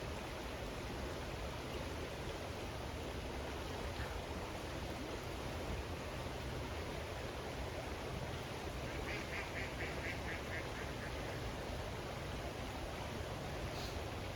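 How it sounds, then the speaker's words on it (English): Ducks quack by a riverside over a constant rushing stream, the calls faint and scattered with a short cluster near the end, and nobody speaks. "Bestie, the ducks agree."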